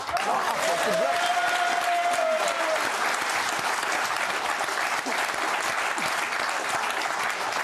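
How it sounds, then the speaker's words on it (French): Studio audience on a French TV talk show breaking into loud, sustained applause with some crowd noise, filling the whole stretch at steady strength. "On peut l'applaudir."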